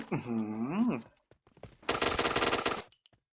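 T77 gun fired in a shooting video game: a rapid sustained burst of automatic gunfire lasting about a second, following a short stretch of voice and then fading to quiet.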